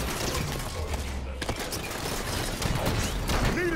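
Turret fire in a video game, a dense, continuous clatter of shots and mechanical noise filling the whole stretch, loud and busy with no clear gaps.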